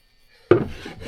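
A hand plane takes a single quick shaving off a wooden board, one sharp close scraping swipe after a moment of near silence, trailing off briefly.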